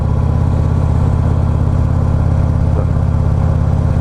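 Motorcycle engine revving on a touring bike, a loud, steady low-pitched drone with strong air box intake growl and a throbbing pulse, heard close and continuous with no talk.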